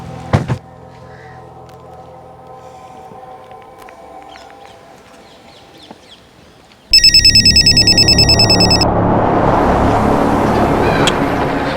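After a quiet, humming stretch, a loud electronic phone ringtone bursts in suddenly and keeps ringing in a rapid repeating pattern.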